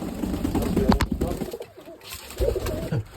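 Pigeons coo from a pair perched on a shelf in a loft, with low throaty calls repeating in bursts close by and soft shuffling and room noise between them.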